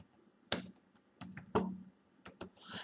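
Quiet, close keystrokes on a computer keyboard as a folder name is typed, a few irregular taps spaced apart with soft clicks in between.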